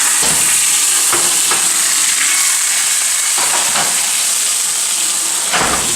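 A green chili chicken roll fries in a hot pan with a loud, continuous close-up sizzle and hiss, broken by a few soft scrapes, and no one speaking.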